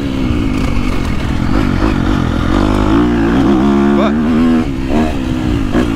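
A KTM 250SXF Factory Edition motocross bike's four-stroke engine revs and rises in pitch at close range, loud and continuous, while a rider talks over it throughout.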